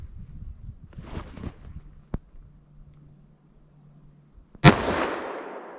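A single sharp gunshot from a Winchester Defender .357 short-barrel gun cracks out loud near the end, its blast tailing off into a brief echo after a stretch of quiet handling noise.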